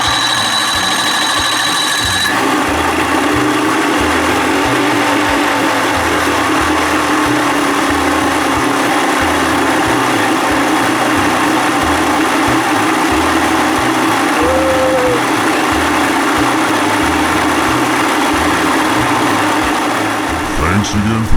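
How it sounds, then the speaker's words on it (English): A 1987 Johnson 40 hp outboard motor cranks over briefly, then catches and runs at a loud, steady idle, close by and continuous for the rest of the stretch. "see if I can fire this thing up before Jimmy gets here"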